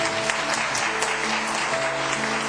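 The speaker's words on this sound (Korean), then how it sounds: "한 분씩 이름 부를 때 박수로 환영해 주시면 좋겠습니다." A church congregation claps together in a broad, continuous wash of applause to welcome newly appointed ministers, steady and fairly loud from start to finish.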